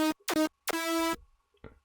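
Bright synth lead support layer for a future bounce track, made in FL Studio: three short sharp stabs followed by one longer held note, then a faint trailing blip, heard alone and fairly quiet.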